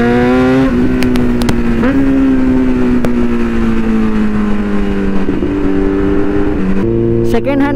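A Kawasaki Z900 motorcycle engine rumbling loudly up close, its pitch rising and falling through repeated revs and gear changes, with a few sharp clicks and a brief burst of higher revving at the end.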